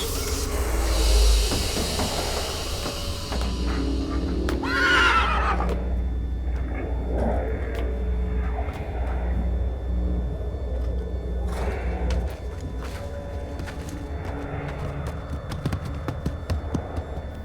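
A horse gives a clear whinny early on, then stamps and shifts its hooves amid hissing and rumbling background noise, close and fairly loud.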